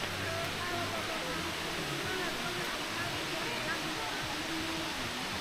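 Kaparkan Falls in Tineg, Abra pours with a steady, broadband roar of falling water, loud and unbroken throughout, with faint murmurs of people talking underneath.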